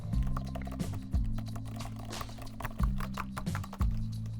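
Rapid, light key clicks on an Apple Magic Keyboard for iPad Pro with scissor switches, tapping away at close range over a steady low hum, with a few heavier thumps mixed in.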